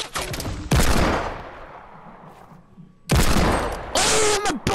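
Loud pistol gunfire in a PlayStation 4 shooter game: two sharp, close bursts of shots separated by a quieter stretch of reverberant decay, with game ambience underneath.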